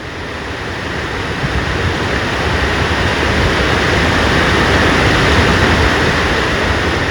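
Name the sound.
waterfall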